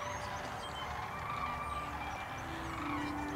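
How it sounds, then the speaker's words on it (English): Thousands of snow geese and hundreds of Canada geese honk in a distant, dense chorus, a faint continuous wash of overlapping calls among cranes in the open. "There are thousands of snow geese and hundreds of Canadian geese to be seen."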